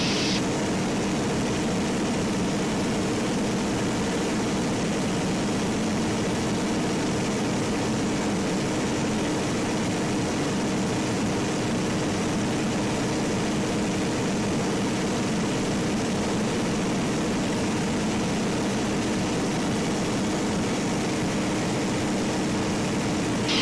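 A small propeller airplane with a brand-new engine cruises at reduced power, a steady, unbroken engine drone with a low hum that holds evenly throughout, with no talk over it.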